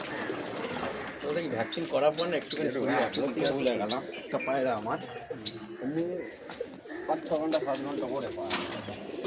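A pair of loft pigeons coo in low, repeated throaty bursts close by, partly overlapped by someone talking.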